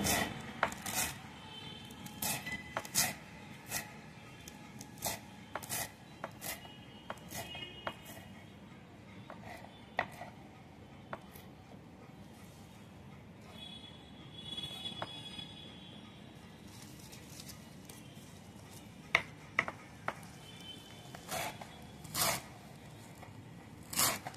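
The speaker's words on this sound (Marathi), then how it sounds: "ही भाजी सर्व अशी कापून घ्यायची." Wild monsoon greens, phodshi or kulichi bhaji, being cut by hand into pieces, giving soft repeated rubbing and rasping chops in an irregular rhythm, fairly quiet and close, with no talk over it.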